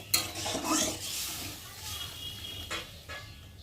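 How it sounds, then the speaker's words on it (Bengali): Water poured into a pan of fish curry masala and stirred, with a splash and hiss followed by spoon scrapes and a few clanks against the pan, moderately loud. "আর এখন আমি জল দিয়ে দেবো, দিয়ে একটু ভালো করে নেড়ে ছেড়ে"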